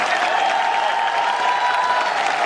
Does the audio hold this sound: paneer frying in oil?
no